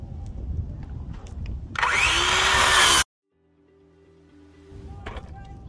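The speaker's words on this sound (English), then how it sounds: "So I can take my skill saw and go ahead and cut about an inch away." A circular saw cuts through roof shingle for a roof jack hole. It gives one loud, harsh burst of about a second as the blade bites and then winds down, with talk and job-site noise before and after.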